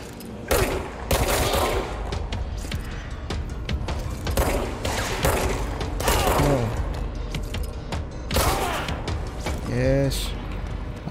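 Gunfire from the video game Control: a string of loud, sharp shots in bursts with mechanical clanks between them, mixed with someone talking.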